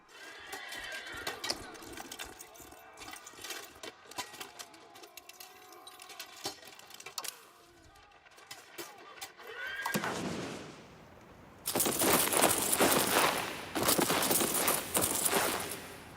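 Horses whinny and neigh in the video game Europa Universalis V, with repeated calls over a soft background, then a louder, denser stretch of hoof and movement noise toward the end.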